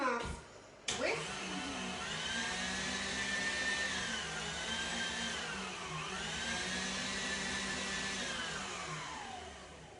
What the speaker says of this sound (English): And then just one last whisk.